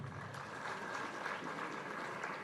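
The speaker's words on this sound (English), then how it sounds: "Ladies and gentlemen, Councillor Ellison deserves a better clap." Conference audience applauding Councillor Ellison at a breakfast conference in Uganda, a faint, continuous patter of many hands clapping heard from a distance.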